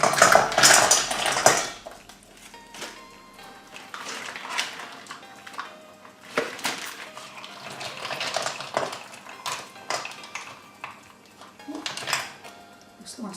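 Live mussels tipped into a big bowl, clattering in a loud rattling rush at first, then scattered clinks and knocks of shells and kitchenware, with a person talking intermittently.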